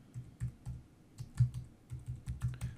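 Notes are typed on a computer keyboard in quick, uneven bursts of close, soft clicks and taps, with a short pause in the middle and no talking.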